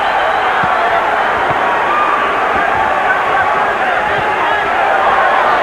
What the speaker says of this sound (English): Pro Chavez crowd chanting already.